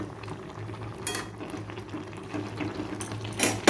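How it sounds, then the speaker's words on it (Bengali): Taro simmers and bubbles softly in a pot on the stove, with a few light metallic clinks and scrapes breaking through the gentle, continuous boil. "দেখছো কচুটা কেমন সিদ্ধ হয়ে গেছে"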